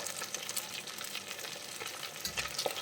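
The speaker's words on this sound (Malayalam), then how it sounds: "നമ്മുടെ പോത്തിറച്ചി എല്ലാം ഇതുപോലെ നമ്മൾ വറുത്ത് കോരിയിട്ടുണ്ട്" Boneless beef pieces frying in oil for a beef pickle, a steady close crackling sizzle running throughout with brief louder pops near the end, no voices.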